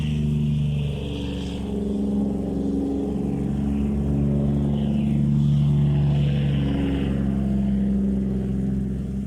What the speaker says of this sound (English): Noisy truck.